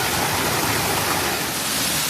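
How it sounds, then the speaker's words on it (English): A waterfall pours over rock at Hector Falls in the Allegheny National Forest, a steady, loud, broadband rush of falling water with no pauses or voices. "here's a look where the water goes over the rock"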